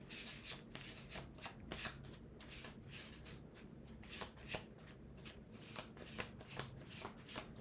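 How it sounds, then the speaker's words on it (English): Playing cards riffled and shuffled repeatedly in a quick, steady rhythm, crisp and close, with no voices. "I'll do one more shuffle."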